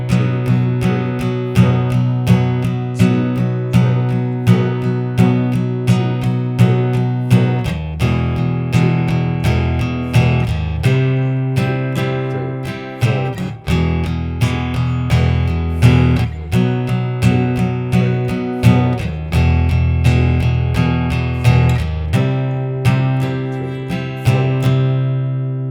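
An acoustic guitar strums the chorus chords of a song in the MTV Unplugged style, a steady, full rhythmic strumming pattern up close with no voice, a brief change in the chords partway through.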